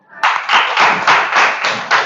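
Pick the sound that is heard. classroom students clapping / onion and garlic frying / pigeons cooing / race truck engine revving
classroom students clapping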